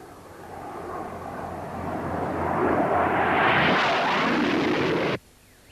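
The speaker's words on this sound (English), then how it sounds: "There's a Skyhawk headed for us." An A-4 Skyhawk jet approaches with a rising, swelling roar that builds over several seconds to a loud rush and then cuts off abruptly.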